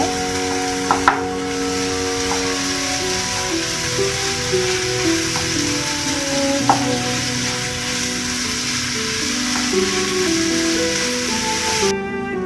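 Ginger garlic paste frying and being mixed into chicken kothu, a steady sizzle under a strong droning hum, with a few sharp clinks of a spoon against the pan, close and continuous.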